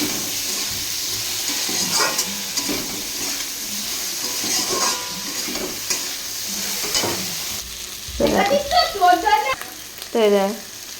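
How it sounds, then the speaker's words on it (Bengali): Continuous sizzling of eggplant frying in a pan with salt, turmeric and green chilli, with stirring scrapes, followed near the end by a few loud clattering utensil knocks. "ভালো করে বেগুনটা ভেজে নেব"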